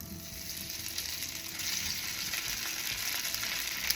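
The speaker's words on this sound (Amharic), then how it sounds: "እዚህ ዘይታችንን ካጋልን በኋላ ቶፉ እናመጣና እንጠብሰዋለን።" Tofu sizzles steadily in hot olive oil in a frying pan, a close, even crackling hiss that grows slightly louder partway through, with no voices.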